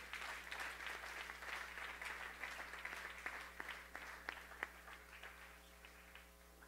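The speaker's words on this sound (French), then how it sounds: "Est-ce qu'on peut encore acclamer très fort le Seigneur?" A church congregation claps and cheers in sustained applause, a dense patter of many hands that gradually thins and fades toward the end.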